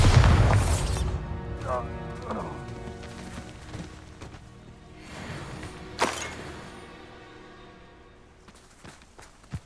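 A Bombardo spell in Hogwarts Legacy bursts with one heavy, close boom right at the start, followed by scattered clatter, smaller impacts and a quieter, decaying tail.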